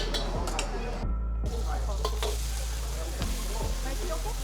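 Char kway teow being stir-fried in a wok at a Penang street cafe, with a continuous loud sizzle and repeated metallic spatula scrapes and clanks against the pan, with faint background voices.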